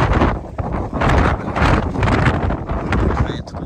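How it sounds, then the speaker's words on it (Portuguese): Strong wind on Aconcagua mountain buffets the microphone in loud, rough gusts that rise and fall over a few seconds, with a voice speaking briefly. "Muito vento"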